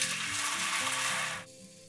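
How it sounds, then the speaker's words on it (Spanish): Blended sauce hits hot vegetable oil in a saucepan over medium heat, a loud steady sizzle and frying hiss that drops away abruptly near the end. "voy a ponerle un chorrito de aceite vegetal y voy a sofreír la salsa"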